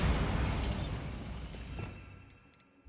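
A Bombarda spell in Hogwarts Legacy erupts as a loud, broad explosive burst that rumbles and decays over a couple of seconds, ending in faint tinkling debris.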